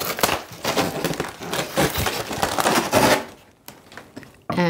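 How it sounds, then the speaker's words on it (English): Packing tape being sliced while a floor lamp is unboxed, a close, scratchy run of cutting and crinkling against cardboard that fades briefly before a final sharp rustle. "Now let me slice some more tape."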